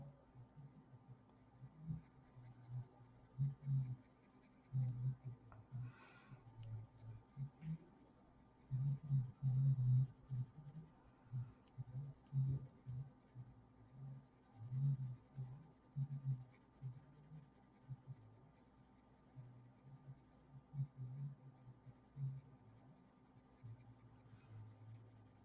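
Olive green colored pencil scratches on paper with hard pressure in quiet bursts of firm back-and-forth strokes, with pauses between, over a low hum.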